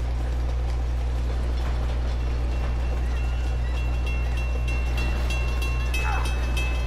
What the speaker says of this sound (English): This train is just full of surprises,